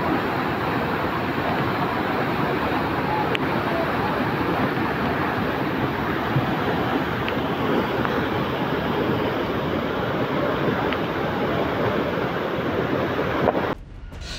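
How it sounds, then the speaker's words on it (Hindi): A torrential waterfall pours down a mountainside onto the Kedarnath footpath in heavy monsoon rain, a loud continuous roaring rush that holds steady throughout and cuts off abruptly at the end. "केदारनाथ के पैदल रास्तों पर पहाड़ी से झरना गिरने लगा।"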